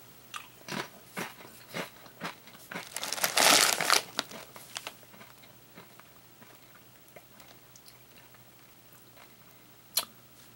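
Doritos UK Jalapeno Fire corn chips crunched up close, a series of sharp bites and chews with bag crinkling, densest in the middle and thinning to a few soft chews and one last crisp snap.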